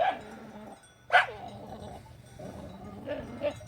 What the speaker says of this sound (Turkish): çoban arkadaşımızın köpeklerine denk geldiler